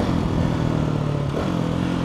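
A KTM SMC R single-cylinder motorcycle fitted with a new Remus exhaust muffler idles close by, a loud, steady, throbbing exhaust note with a slight dip in pitch midway and no talking.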